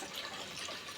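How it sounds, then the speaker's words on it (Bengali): Broth being poured into a hilsa fish and potato curry in a home kitchen gives a steady, continuous liquid splashing and trickling, close and fairly quiet, with no voices. "এই যে তরকারিতে ঝোল দিয়ে দিলাম"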